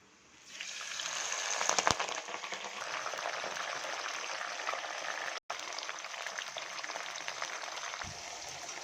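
Fenugreek and black cumin seeds sizzle steadily in hot oil for a homemade coconut hair oil, a close, constant crackle under a brief clink near the start.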